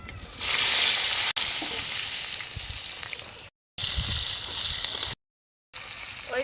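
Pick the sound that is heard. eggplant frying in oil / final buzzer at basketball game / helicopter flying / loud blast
eggplant frying in oil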